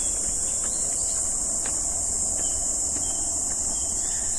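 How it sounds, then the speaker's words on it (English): Cicadas drone steadily in Tokyo on a rainy day, a dense, unbroken high buzzing that fills the scene with faint clicks scattered beneath it. "Now we won't be able to hear anything else than the cicada."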